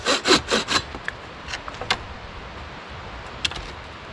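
Bow saw cutting short guide grooves into wood, four quick rasping back-and-forth strokes at the start, then scattered lighter scrapes and a couple of faint strokes, close and clear with no talking.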